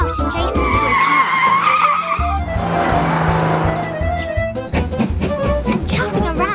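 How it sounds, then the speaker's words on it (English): A cartoon toy car zooms about carrying a shrunken grandpa, with loud revving, screeching skid and tire-squeal effects sweeping up and down, layered with busy music and faint voices. "He loves zooming about in Jason's toy car."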